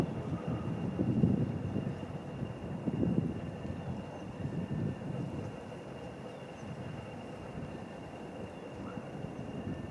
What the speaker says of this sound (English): this wind that just blew by